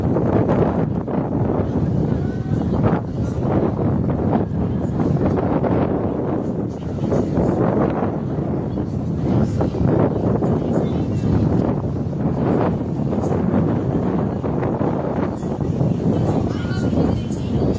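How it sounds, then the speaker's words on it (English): Strong, steady wind buffets the microphone outdoors in Indianapolis in fall, a constant loud rumbling roar with gusty surges throughout. "but it's windy"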